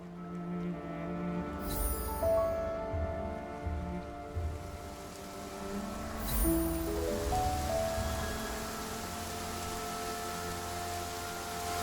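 Steady rain falls in the video game Infinity Nikki, a soft, even hiss that runs throughout beneath sustained tonal game music, with no voices.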